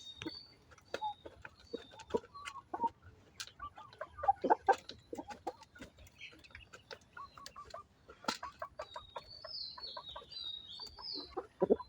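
Hungry chickens and a rooster on a farm cluck and squawk continuously, several birds calling over one another at close range with sharp, uneven bursts.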